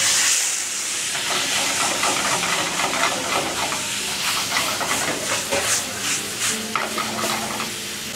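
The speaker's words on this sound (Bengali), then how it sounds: "লবণ দেওয়ার পর স্কুইডগুলো ঢেলে দিচ্ছি।" Squid poured into hot olive oil in a frying pan, hissing and sizzling loudly and steadily close by, with crackling bursts and a few stirring scrapes, no talking.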